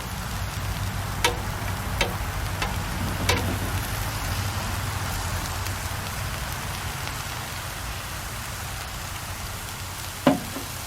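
Onions and peppers frying in a pan for a cheesesteak, a steady hiss with a few sharper pops and crackles rising out of it, heard alone with no voices.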